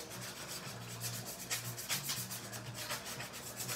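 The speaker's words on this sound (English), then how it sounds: "you have to sand the entire mask" A Jason hockey-style mask that already bears an axe-cut gash is sanded across its whole surface, producing steady, close scratchy rubbing with rhythmic stroke bursts and no talking.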